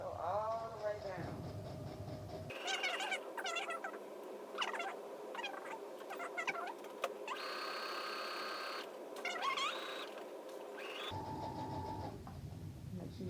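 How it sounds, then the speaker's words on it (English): A sewing machine stitching down a jacket seam, running in a steady buzzing whir for several seconds with brief pauses at the start and end. "Just sew all the way down."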